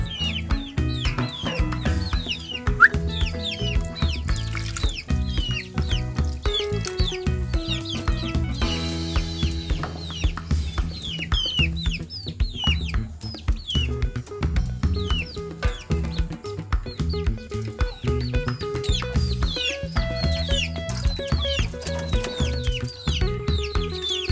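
Breeder chickens clucking in a coop, a busy stream of repeated short clucks and squawks from several birds over a constant background din, with no talking.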